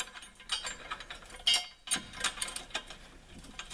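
A ratchet tightens a bolt on a receiver hitch being installed on a 2023 Jeep Wrangler Rubicon diesel, giving quick repeated metallic clicks in short bursts, close and fairly faint.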